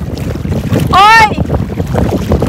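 Strong wind roars steadily over the microphone on a boat trip out on open water, loud and close the whole time, with a brief high call or whistle cutting through near the middle.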